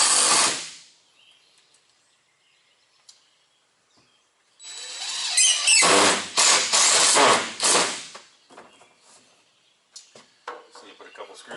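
Power drill driving the last screws into a homemade shop bench: a burst of whirring and ratcheting bites around the middle, set apart by quiet gaps and a short buzz at the start, with scattered handling clicks near the end.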